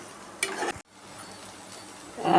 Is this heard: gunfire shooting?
no